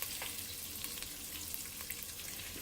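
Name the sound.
diced garlic cooking in a hot pot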